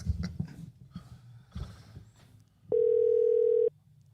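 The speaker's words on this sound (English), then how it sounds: "It's ringing." A steady single electronic telephone tone sounds for about a second after faint background noise and low rumbles, then stops abruptly.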